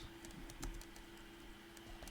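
Quiet clatter of computer keyboard typing during a ReactJS coding session, a scattering of soft, irregular key clicks over a steady low room hum.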